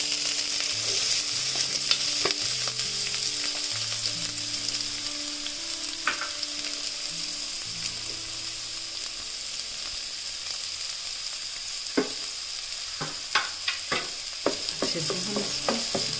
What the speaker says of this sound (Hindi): तेल को थोड़ा गर्म होने के बाद हम इसके अंदर प्याज डाल देंगे।